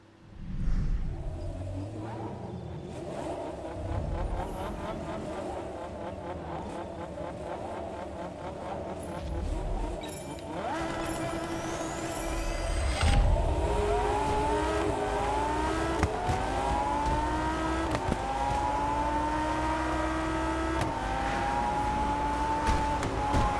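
A Lamborghini engine in Test Drive Unlimited Solar Crown, revving loudly and climbing through the gears with repeated rising whines as the car accelerates, steady and close, with faint background sounds.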